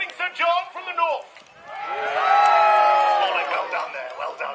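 A live crowd cheers in support of Sir John Babington, a rising swell of voices and applause that builds for about two seconds and then fades, following a voice calling out.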